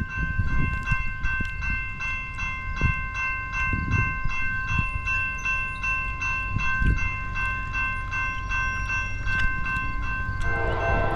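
Norfolk Southern freight train 62V, led by a rebuilt Dash 9-44CW locomotive, rolls past close by. Its multi-tone horn blares steadily over the rumbling, clanking wagons throughout.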